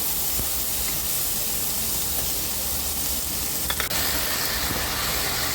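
Onion and green chili pieces fry in hot oil, a steady loud sizzle and hiss with a few faint clinks, no voices.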